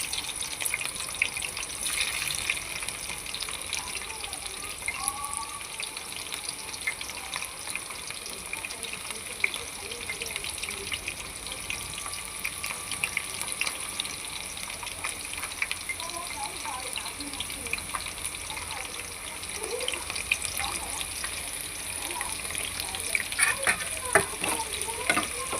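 Onions frying in hot oil for a tomato egg curry, a continuous soft sizzle with faint stirring and occasional pan clicks running steadily throughout, fairly quiet.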